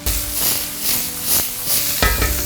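Onions stir-fry in a hot wok, a loud steady sizzle broken by scraping stirs of the spatula across the pan.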